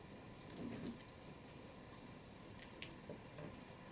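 Scissors snip small craft pieces, such as googly eyes, off a dried project; faint, close, quiet cutting sounds with a single sharper snip in an otherwise hushed room.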